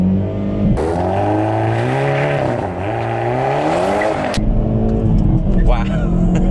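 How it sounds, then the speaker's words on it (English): A 2022 Hyundai i30N front-wheel-drive hot hatch launches hard from first gear. The engine revs loudly and climbs through a strong acceleration, cuts off sharply, then is followed by quieter engine sound and excited talk. "could we launch this car?"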